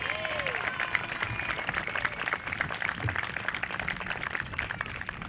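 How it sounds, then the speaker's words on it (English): An outdoor crowd at a Fourth of July ceremony gives a round of applause, with continuous, fairly distant clapping mixed with background murmur and ambient noise. "Let's give them a round of applause."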